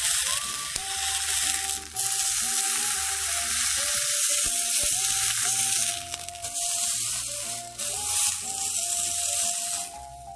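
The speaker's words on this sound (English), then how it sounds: "We're going to get that to sear as well" A large pork chop sears face down in a hot pan, giving a loud, steady sizzle with faint scrapes and a high tonal hum running under it throughout.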